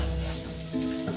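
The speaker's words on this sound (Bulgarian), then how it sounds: "Пъхаме и започваме да запържваме картофките" Potatoes frying in a pan, giving a soft, steady sizzle close by with low stirring scrapes and a faint kitchen hum, no voices.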